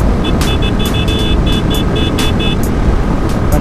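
Kawasaki Z900 motorcycle held at full throttle around 120, a loud, steady wind-blasted engine roar close by, with a faint repeating electronic beeping over the first few seconds.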